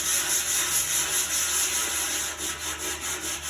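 Sandpaper rubs back and forth in rhythmic strokes during a 1971 Cub Cadet restoration, a loud, close scratchy rasp that pulses regularly with no talking.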